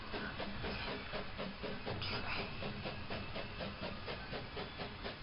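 A train's steam hiss, a dense continuous rushing noise with a faint rhythmic chuffing pulse underneath, steady and alone with no voices.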